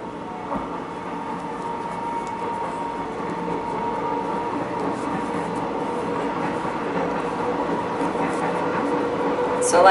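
A train rolls past nearby with steady rumbling and clattering wheels, growing gradually louder toward the end.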